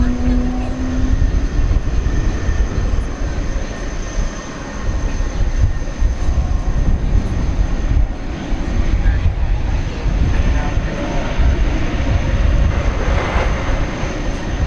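Boeing 737-800 jet on runway 18 Left at Dallas Fort Worth airport at night, a continuous loud engine roar and rumble in windy conditions, steady throughout without voices.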